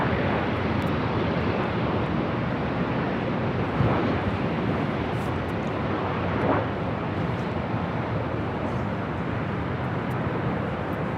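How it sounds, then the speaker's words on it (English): An Alaska Airlines Boeing 737-900ER arriving at LAX on a flight from Seattle rumbles as a broad, steady roar, loud and continuous and mixed with wind buffeting the microphone. "This is Alaska Airlines Flight 1300 coming in from Seattle on the 737-900ER"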